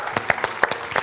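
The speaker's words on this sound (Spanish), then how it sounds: "Yo quiero que despidamos al maestro con un fuerte aplauso" A handful of distinct, sharp claps ring out in quick irregular succession as an audience sends off a maestro, sounding more like a few hands than a full crowd.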